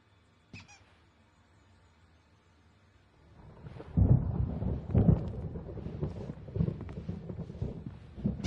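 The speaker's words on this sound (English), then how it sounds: "There's a storm coming. Oh, what a storm." Stormy thunder in a video game starts with a quiet lull and a single sharp crack, then swells into a heavy, continuous rumbling roll that stays loud to the end.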